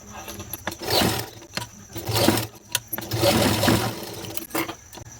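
Bursts of a sewing machine stitching a hook and button strip (hook patti and kaaj patti) in short runs separated by pauses, close and moderately loud with no talking.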